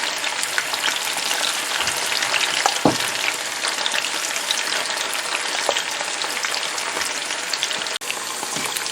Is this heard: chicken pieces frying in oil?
yes